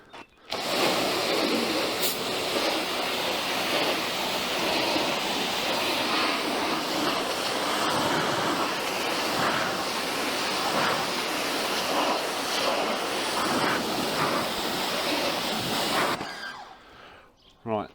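Hose water rinsing wax off a car's paintwork, a steady loud broadband rush and spatter lasting about sixteen seconds before cutting off abruptly.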